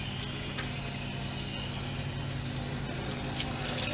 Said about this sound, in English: I'm just going to rinse any food particles down the drain